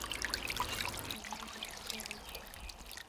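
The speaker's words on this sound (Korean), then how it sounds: "삶아서 찬물에 담가두었던 달의 순을 한 뭉치씩 짜내 건지는 진순 할머니" Cold water drips and trickles as bundles of blanched shoots are squeezed out by hand, a faint, close splashing that fades to a quieter wet patter.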